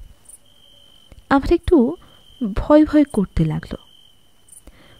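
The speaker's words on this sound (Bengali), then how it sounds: "চারিদিকে ঝিঝি পোকা আর ব্যাঙের ডাক।" A continuous high, thin cricket trill runs steadily through a rain-soaked night scene after a storm, staying faint beneath someone narrating a ghost story.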